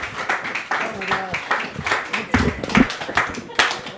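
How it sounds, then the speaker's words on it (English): Audience clapping for storytellers on stage, uneven bursts of claps mixed with voices talking and cheering close by. "Let's give another round of applause."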